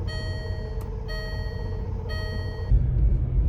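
A Range Rover being started: a series of repeating electronic warning chimes, then the engine turns over and settles into a steady low rumble close by.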